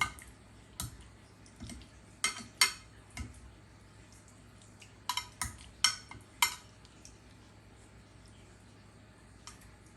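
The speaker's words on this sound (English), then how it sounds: "you're going to go in with your masher here, and you're just going to mash this and like spread it out evenly to the bottom of the pan" A masher presses cooked plantain into a pan for plantain lasagna, producing sparse, sharp metallic clicks and taps in small clusters over a quiet background, with longer pauses between the strokes.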